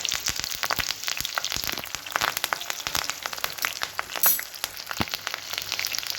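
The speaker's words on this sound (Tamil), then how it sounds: "இப்போ நல்லா வெங்காயம் சவந்து வர அளவுக்கு வதங்கிக்கட்டும்" Sliced onions sauté in a pan with chillies and plenty of curry leaves for a spinach chutney, giving a steady crackling sizzle with busy popping spatters throughout and no talking.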